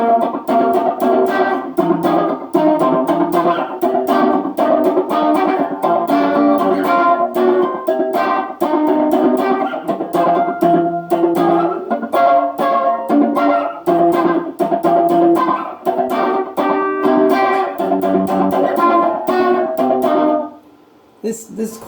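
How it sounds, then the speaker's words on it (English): Electric guitar runs through a delay pedal, strummed and picked phrases repeating in quick echoes under a driven tone, playing continuously before cutting off near the end with a short voice. "Let's turn off the reverb part and turn on the delay part and"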